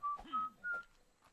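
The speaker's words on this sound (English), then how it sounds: "We whistle while we work." A person whistles a short tune of a few clear sustained notes while working in a survival crafting game, fairly quiet, with faint background game sounds.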